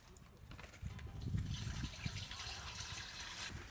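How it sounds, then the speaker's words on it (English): Lukewarm water pours into a mixing bowl while yeast is prepared for a giant burger bun, a steady trickling splash rising after a quiet start and running continuously at moderate, close range. "Let's add lukewarm water"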